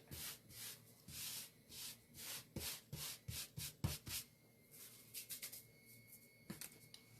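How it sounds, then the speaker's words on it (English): A tool scrapes up Chalk Couture paste in a series of short, rough rasping strokes, close and fairly loud, with brief pauses between passes and no talking. "Scrape this up."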